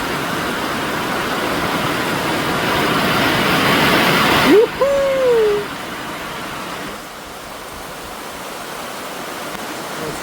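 Dense, steady roar of heavy rain pouring down, with a voice briefly speaking over it midway before the downpour continues.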